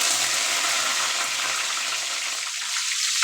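Garlic and curry leaves frying in a pan, a steady, bright hiss of sizzling oil that runs on throughout, close and loud with no talk.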